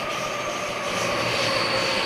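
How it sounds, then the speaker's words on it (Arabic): A train pulls into a station with a steady, loud rumble and rolling hiss that holds evenly throughout, with no voices. "إجا القطار."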